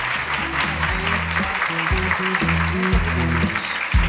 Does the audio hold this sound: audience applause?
yes